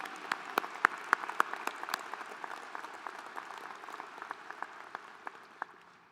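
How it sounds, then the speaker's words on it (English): Commencement audience applauding at a fall ceremony, a broad steady wash of clapping with sharp individual claps standing out near the start, moderately distant and sustained throughout. "How about one more round of applause for Brett and our regents here today?"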